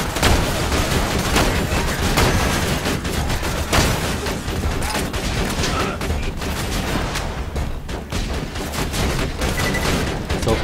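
Dense, continuous gunfire from a Borderlands 2 firefight, loud and close, with rapid overlapping bursts and booming impacts running throughout without a break.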